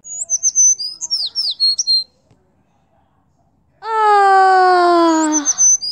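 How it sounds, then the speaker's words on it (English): Small birds chirp in quick bright bursts, then one sings a long sustained harmonic call, heard close and clear with no talking. "let's just wait for those birds to fly away and then we'll do take 10"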